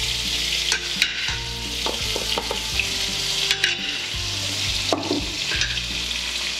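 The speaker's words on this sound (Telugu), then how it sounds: "ఇది ఇట్లా నూనె కాగాక కచ్చా పచ్చా ఉన్న పచ్చిమిరపకాయలని ఇట్లా వేసుకోవాలన్నమాట" Whole green chillies hit hot oil in a pan for a village-style desi egg curry, producing a loud continuous sizzle near the listener with intermittent stirring clatter and utensil knocks.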